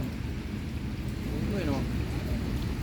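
Steady rain falls as a dense, constant hiss with low rumbling wind noise, loud and continuous throughout, and a faint voice briefly rises beneath it.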